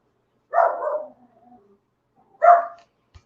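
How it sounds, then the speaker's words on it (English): A dog named Baxter barks at night, likely upset by fireworks. It gives two separate barks, each loud and close, with a short gruff tail after the first and near silence between them. "trying to keep him from barking"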